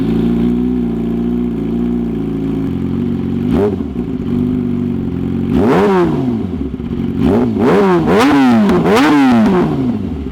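A Yamaha R6 motorcycle fitted with a fake SC exhaust idles with a steady low drone, then is blipped through a single rev and a rapid series of sharp, rising-and-falling revs, loud and close, with no talking.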